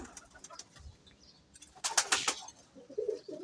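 A pigeon gives soft, low coos close by amid faint rustling, with a brief flurry of flapping or scuffling in the middle and no talking.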